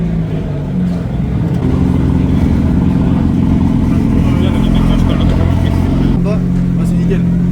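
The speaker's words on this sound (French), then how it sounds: "on va devoir montrer comment on roule une M4 parce que là on est sur circuit" BMW M4 out on a race circuit, its engine droning steadily with a rising, revving tone, loud and close, while people talk over it.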